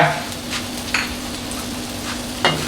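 Wok of stir-fried pork belly with chili, salt, spring onion and fried garlic being shaken over the heat, a steady close sizzle with a few scraping, rattling bursts as the food is tossed.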